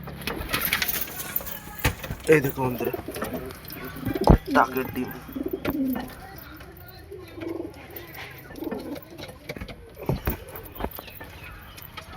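Pigeons coo and flutter close by while a person talks over them, with a few sharper knocks and movement noises in between.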